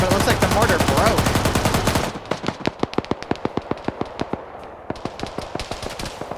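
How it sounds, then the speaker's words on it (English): Automatic cannon fire from BTR armored vehicles at infantry in a PvP military shooter, a dense roaring burst at first, then a steady run of sharp, evenly spaced shots ringing out loud and close. "Now we got the BTRs firing at infantry here."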